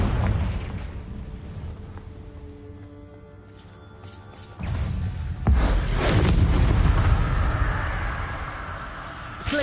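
Confringo spell blasts in the Hogwarts Legacy video game, deep booming explosions that erupt loudly after a quieter stretch of lingering tones, followed by sustained rumbling and crackling combat noise.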